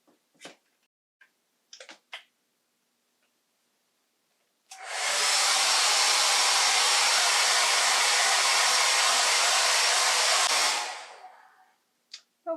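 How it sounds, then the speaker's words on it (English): A hair dryer roars on loudly and steadily for about six seconds, then winds down, with a few small clicks and taps before and after. "If you can't wait, go grab that hair dryer."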